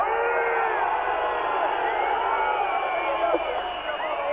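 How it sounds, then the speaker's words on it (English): A large partisan rugby crowd at a 1985 Kiwis versus France test match during a penalty kick, a steady roar of jeering and whistling voices, loud and continuous throughout. "Crowd's getting a bit upset here."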